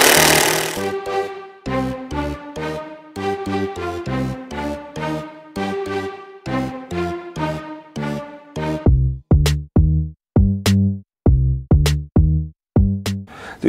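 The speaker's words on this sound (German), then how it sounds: "Aber schneller geht es eigentlich mit diesem Akkuschrauber hier." A cordless drill driver driving screws into wood for a picnic bench set, loud and close, with stuttering pulsed bursts of the motor followed by sharp repeated impact-like hits in a steady rhythm.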